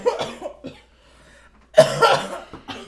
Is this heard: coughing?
yes